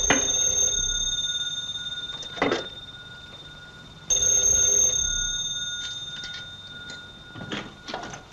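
Old-fashioned telephone bell in a radio drama, ringing in two long metallic bursts separated by a pause, followed by a few soft clicks and knocks.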